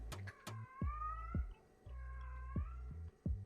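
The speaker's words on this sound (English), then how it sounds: "my cat is in heat." A cat in heat yowls in drawn-out, wavering meows, several calls in a row with short pauses, close and fairly clear against a quiet background.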